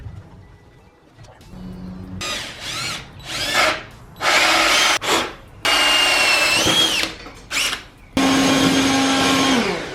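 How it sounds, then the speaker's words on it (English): Power drill boring a hole through an RGB sign outdoors, several loud bursts of whining motor and cutting noise that start and stop, with short pauses between runs. "Now I got our power hole drilled,"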